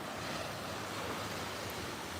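Ocean surf at Lauderdale-by-the-Sea beach in Florida, heard as a steady, broad wash of breaking waves with some wind noise on the microphone, continuous with no voices.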